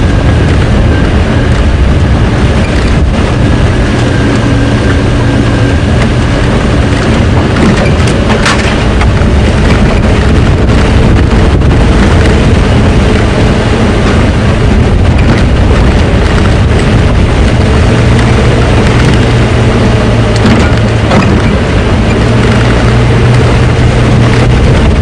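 Strong wind on a safari game drive at Djuma Game Reserve buffets loudly and continuously, a dense low roaring rumble that lasts the whole time without talk.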